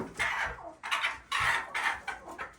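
Hens clucking in a farmyard: a short run of repeated clucks and squawks, fairly close and moderately loud, with no talking.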